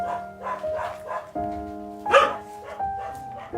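Young puppies in a small wire cage bark and yip in short repeated bursts, close by, with one louder, sharper outburst in the middle.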